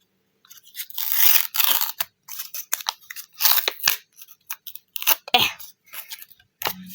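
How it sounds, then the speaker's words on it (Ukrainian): Crinkly, crunchy rustling of a paper surprise packet being torn and pulled open, several close bursts of crackling with short pauses between them. "Відкрили наш пакетик."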